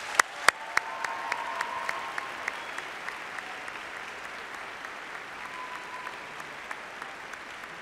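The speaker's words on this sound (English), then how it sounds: "could we please recognize them with a round of applause?" Applause from a graduation ceremony audience for staff members, a steady wash of clapping with a few sharp louder claps near the start, holding at an even level and tapering slightly toward the end, with no talking over it.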